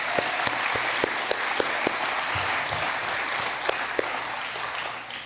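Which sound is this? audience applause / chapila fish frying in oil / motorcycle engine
audience applause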